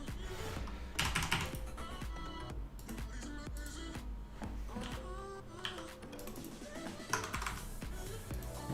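Rapid clicking of keys typed on a computer keyboard while a PCB is laid out in KiCad, close and steady with irregular bursts and pauses over several seconds.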